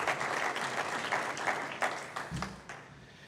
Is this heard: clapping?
yes